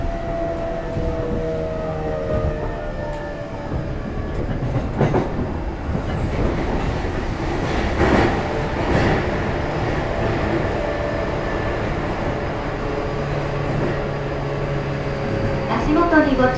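A JR E233 series 2000 commuter train runs steadily between Yoyogi-Uehara and Yoyogi Koen, with constant motor and rolling rumble, rail clatter and whining tones, while onboard announcements play over it.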